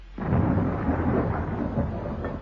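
Thunder from an approaching storm rolls as a deep, sustained rumble that swells quickly and lingers for a couple of seconds, loud and heavy, with no other sound over it.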